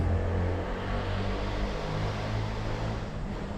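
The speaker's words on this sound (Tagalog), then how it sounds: "So yung marinig nyo na mga sasakyan guys, kasi medyo malapit lang to sa highway" Cars passing on a nearby highway heard from inside an abandoned house at night, a low steady rumble of traffic with no distinct pass-bys and no talking.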